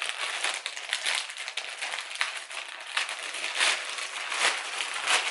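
Plastic packaging from an AliExpress order crinkles and rustles continuously while being unboxed indoors, a close, busy crackling that keeps going throughout with no speech.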